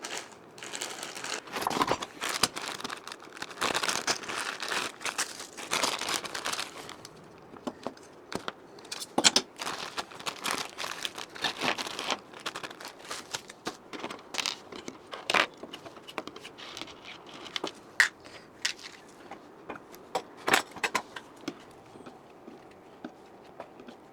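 A new cluster gear spring kit for a Bajaj Chetak scooter engine is unwrapped, its plastic packaging crinkling and crackling up close in irregular bursts, with small metallic jingles of springs and metal rivets.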